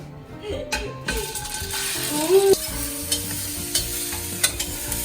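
Olive oil heating in a clean wok for mapo tofu gives a soft sizzling hiss, with clinks of metal against the pan, a brief squeal-like scrape and a few clatters near the middle, close by.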